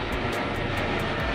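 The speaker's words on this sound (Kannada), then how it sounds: "ಇಂಡಿಗೋ ಫ್ಲೈಟು ಹೋಗ್ತಿದೆ." An IndiGo airliner passes overhead near Devanahalli International Airport, heard from a hilltop by the Sadahalli quarry temple as a steady, broad jet roar that holds at an even level throughout.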